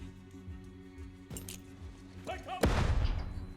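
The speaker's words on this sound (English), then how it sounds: "Flashbang into the bathroom." Flashbang grenade in Door Kickers 2: a few light clinks and metallic taps, then a sharp, loud bang with a noisy rumbling tail.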